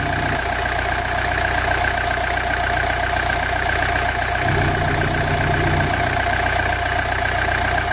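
A low-mileage 1982 Mercedes 240D diesel engine idling, heard up close as a loud, steady mechanical drone with a constant low throb, its pitch shifting slightly partway through.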